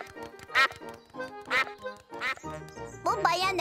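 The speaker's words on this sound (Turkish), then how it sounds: "Bu bayan ördek ve arkadaşları." Cartoon ducks in a Peppa Pig episode give a run of nasal, squeaky quacks in short bursts, one after another at close range, mixed with animated music and character voices.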